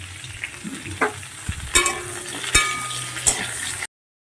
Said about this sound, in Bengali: আলু আর পেঁপে আরও কিছুক্ষণ আমি ভেজে নেব